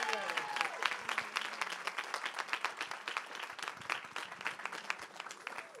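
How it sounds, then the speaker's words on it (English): A community council audience claps and cheers for a woman leader taking the stage, dense rhythmic hand claps building then thinning out over several seconds, close and lively. "stand on your feet, and clap your hands for this powerful black sister leading our system"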